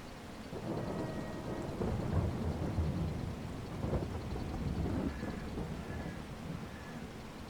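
Thunder rumbles low under steady heavy rain in the video game Farming Simulator 22, a continuous soft hiss of falling drops with rolling thunder swelling mid-way, moderately quiet and without talk.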